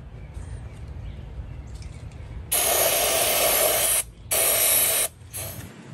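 Cleaner sprayed onto a grimy 1934 U.S. Tool Company Commander drill, two loud close hissing bursts, the second cut short, over a faint room background.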